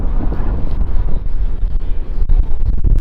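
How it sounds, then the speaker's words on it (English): Strong wind gusts over a river in the Ozarks during a kayak camping trip, a dense, close, buffeting rumble that roars steadily across the whole stretch with brief dips and surges. "The wind is absolutely whipping out here."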